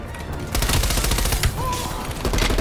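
Rapid, loud AK-47 fire bursts from the video game Call of Duty: Black Ops Cold War, with dense repeated cracks almost without pause.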